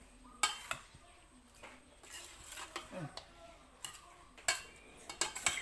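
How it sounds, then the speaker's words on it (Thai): Thai bitter mushroom salad with toasted rice and lime is tossed in a bowl, giving faint clinks of utensils, soft wet mixing and light ticking taps in irregular bursts, with quiet voices in the background. "เดี๋ยวคลุกให้เข้ากันดี ๆ ก่อน"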